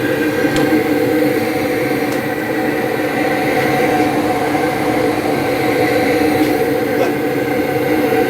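A homemade waste oil burner runs steadily after cycling back on, giving a continuous loud roaring hum with a constant drone and no pauses.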